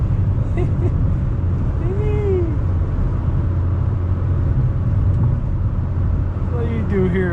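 Inside a small 2013 Chevy Spark LT on the move, a steady low drone of engine and road rumble holds throughout, with faint mechanical whirring and a few brief tonal sweeps, and no voices.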